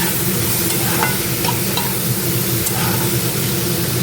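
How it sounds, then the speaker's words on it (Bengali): Garlic frying in a pan with onion, ginger and tomato, giving a constant loud sizzle with occasional light stirring clicks throughout. "এই যে এটা পেঁয়াজ দিয়ে দিয়েছি, রসুন ভাজছি, আদাটা এখানে টমেটো দিয়ে দিয়েছি,"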